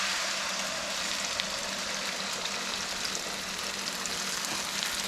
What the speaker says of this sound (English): we're going to dump the eggs in the skillet